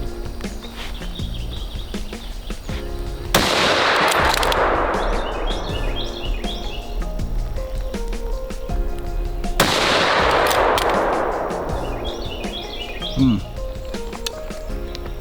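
Two loud rifle shots ring out at an outdoor shooting range, each a sharp crack followed by a long rolling echo, with faint birds or insects in the background.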